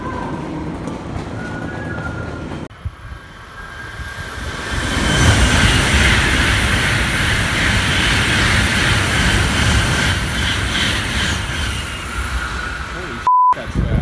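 A Shinkansen bullet train in Japan roars past at high speed, a broad rushing swell building loudly and holding for several seconds before a short beep near the end; no one talks over it.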